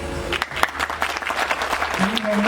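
Guests at a Turkish civil wedding ceremony break into applause after the bride's consent, a steady mass of clapping with voices talking over it and a faint tone near the end.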